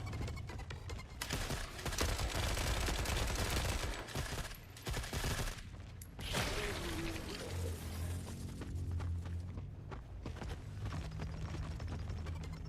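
Heavy, rapid gunfire bursts in the war video game Forever Winter, loud and continuous with brief lulls, mixed with rumbling game sounds and a low drone.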